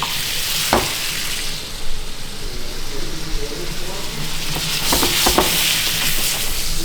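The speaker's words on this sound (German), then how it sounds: "gebe dann praktisch die Pilze dazu" Steady sizzling and crackling of mushrooms frying in butter in a pan, with a few sharp clicks and scrapes.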